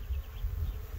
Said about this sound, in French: on se croirait à la sortie d'un rucher tellement il y a d'abeilles